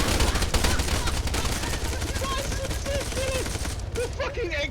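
Continuous rapid gunfire from several players shooting down at people below in a prison island video game, a dense rattling fusillade under excited talking voices throughout.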